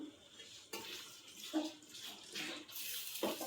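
Water is poured into a pan of chicken curry in a home kitchen, in short splashing gushes with brief pauses between pours, quiet and close, with no talk.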